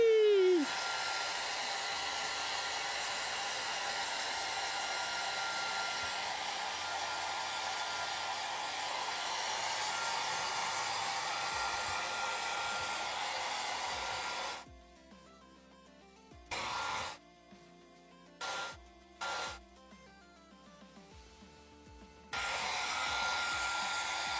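A hair dryer below maximum fan speed blows with a steady whooshing hiss for a long stretch while drying paint on a mask, then switches off and on several times in short bursts before running again.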